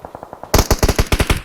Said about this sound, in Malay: Satu tembakan akan cuba dilepaskan.